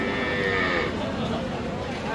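Cattle lowing at the Aftabganj cattle market in Bangladesh, where Friesian cows, crossbreeds and Sahiwal cattle are sold; a drawn-out moo fills the whole clip amid crowd murmur.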